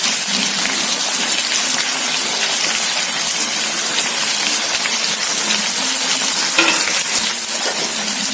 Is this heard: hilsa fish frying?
yes